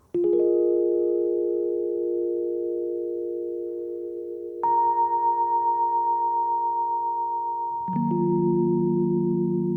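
Sustained instrument notes through a Hologram Chroma Console multi-effects pedal's reverb, three held chords each ringing smoothly with a long tail and decaying slowly before the next one enters, no voices.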